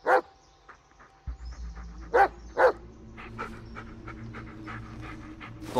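A dog in the Blair Witch video game pants, yips and whimpers close by, with a few short sharp bursts over a low steady game ambience.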